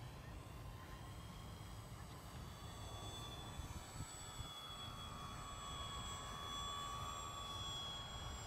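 An E-flite EC-1500 Twin RC cargo plane flies with half flaps, its electric motors giving a faint, steady, high whine over a low, continuous outdoor rumble for several seconds.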